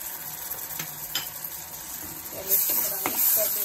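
Ginger, garlic, green chili and onion paste sizzles in hot oil in a pan, a soft steady frying hiss with light stirring scrapes and clinks, fairly quiet.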